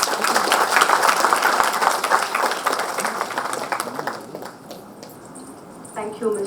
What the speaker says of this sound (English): Ladies and gentlemen, please give her a round of applause.